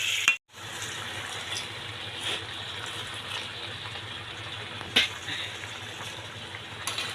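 Water is poured into a pot of sweet vegetarian bamboo shoot curry made with already-boiled shoots, giving a steady, moderate splashing gush with a brief break near the start and a couple of small clanks.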